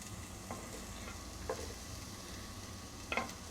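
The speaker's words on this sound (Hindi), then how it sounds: "प्याज को हल्का हल्का फ्राई कर लेंगे।" Onion fries gently in about two tablespoons of oil in a pan, giving a steady, soft sizzle up close. A few light scraping clicks from stirring break in, and no one speaks.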